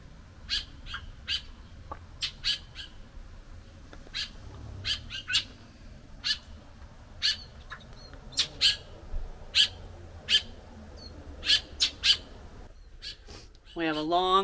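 Birds call outdoors in short, repeated chirps and whistles at moderate distance, with a soft background hum and a brief rustle at the end.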